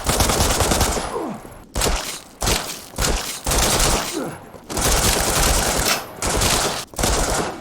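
Bursts of LE5 submachine gun fire in the Resident Evil Re:Verse shooter, rapid automatic volleys of about a second each separated by short pauses, loud and close, with no talking.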